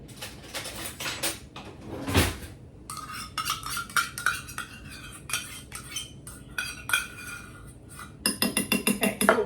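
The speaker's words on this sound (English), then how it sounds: "in a bowl, you're gonna stir in 1 cup of ketchup" A spoon clinks and scrapes around a bowl while ketchup is stirred for a sauce, giving close, rhythmic metallic taps and rattles of utensils on dishware with no talking.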